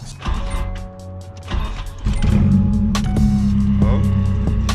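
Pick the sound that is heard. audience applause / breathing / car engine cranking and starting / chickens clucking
car engine cranking and starting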